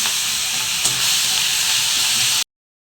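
Prawns sizzle loudly in a hot pan, a dense, steady hiss of frying oil heard up close with one small pop, running evenly before cutting off abruptly.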